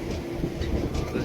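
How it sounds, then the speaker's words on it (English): A train stands at the final station of a line to Cape Town, giving a steady low rumble and rail noise at close range with no talk over it. "Look at the train. Yeah, beautiful train. This is actually the last station."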